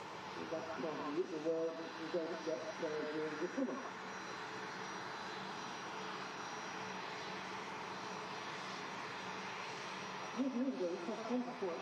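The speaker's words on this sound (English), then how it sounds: "this Boeing 737-800 series coming in next from Chambéry" A TUI Airways Boeing 737-800 arriving from Chambéry lands at Manchester Airport in strong winds, its engine roar steady and sustained throughout, with a voice briefly talking over it near the start and again near the end.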